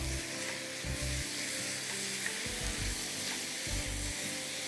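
Minced meat sizzles loudly with onions in a pan, a dense continuous frying hiss broken by bursts of stirring and scraping.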